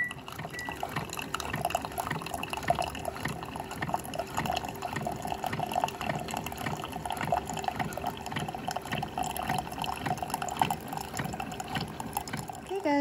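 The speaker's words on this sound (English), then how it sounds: "Gonna put it in here in my Keurig and let's let that brew." Keurig coffee maker brewing, a soft continuous trickle and gurgle of hot liquid filling a cup, faint and steady throughout with light background noise.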